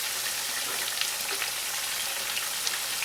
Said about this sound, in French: mes pommes de terre commencent à s'attendrir après à peu près entre 15, plutôt entre 5 et 10 minutes. Donc je vais rajouter